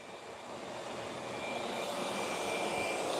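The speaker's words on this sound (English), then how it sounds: "So the sander is going to clean that up a lot nicer." A sander works over a rough wooden cutting board with a steady, broad whirring roar that builds slightly in loudness, alone with no talking.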